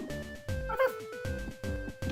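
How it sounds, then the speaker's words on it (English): Puppies in the video game Cave Story give a string of short, high, synthetic yipping barks in quick bursts, close and clear, with a brief blip between them. "Say hello to some puppies while we're waiting for people."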